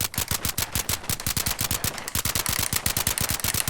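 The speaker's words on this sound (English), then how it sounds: "It's a nice suppressed sound too." Rapid automatic gunfire from a suppressed semi-auto rifle in Fallout 4, a steady stream of close, loud muffled shots at an even fast rhythm with no talk.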